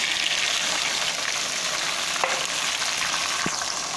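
Chopped tomatoes go into a pan of browned onions frying in oil, setting off a loud, steady sizzle that crackles continuously with a few sharp pops and stirring clicks.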